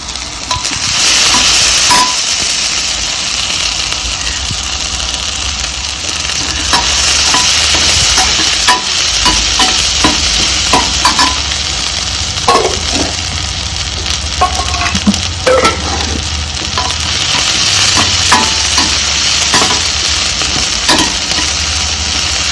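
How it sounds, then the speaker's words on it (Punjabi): Onions frying in a pot for carrot rice in a village kitchen, with a loud steady sizzle and a spoon scraping and clinking at an uneven pace throughout; no voices. "ਪਿਆਜ਼ ਜਿਹੜੇ ਥੋੜੇ ਜਿਹੇ ਜੇ ਆਪਣੇ ਭੁੱਜੂਗੇ ਜ਼ਿਆਦਾ ਨਹੀਂ ਭੁੰਨਣੇ ਹੈਗੇ"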